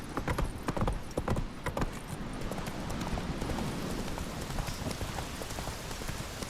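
Roach the horse gallops in The Witcher 3 game, a fast run of hoof clip-clops mixed with a steady rain-like patter throughout, fairly close and continuous, with no talking.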